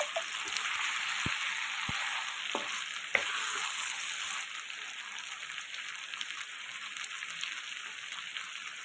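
Boiled chickpeas being sautéed in hot oil in a pan, a constant bright sizzle with occasional sharp clicks of a spoon against the pan.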